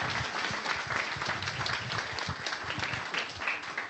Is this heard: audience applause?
yes